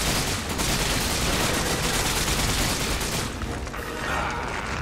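Dense, continuous gunfire from the Resident Evil 5 video game in co-op play, a loud unbroken barrage of shots and blasts filling the whole stretch and easing slightly near the end, with no talking.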